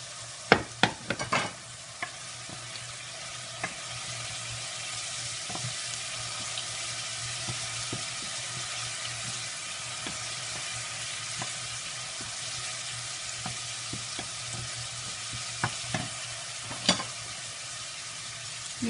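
Tuna fillets fry in a pan with garlic, giving a steady soft sizzle at moderate level. Sharp clinks and stirring knocks of a utensil against the pan come in scattered bursts, clustered at the start and near the end.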